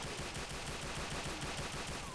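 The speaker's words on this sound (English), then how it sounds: "Apart from somebody shooting at me?" Rapid enemy gunfire in the shooter game Doom 2 rattles continuously in a dense, fairly quiet burst lasting a couple of seconds, with no voices over it.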